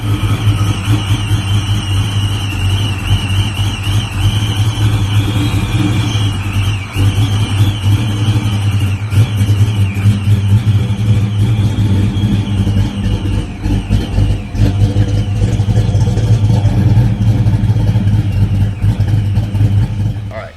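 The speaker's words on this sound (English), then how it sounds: "the next one is my good friend Tim Bickford's Supercharged GT. Just listen to that chop" A loud supercharged Mustang GT engine idles with a lumpy, choppy rhythm and revs repeatedly, supercharger whine above the deep rumble, continuous and close.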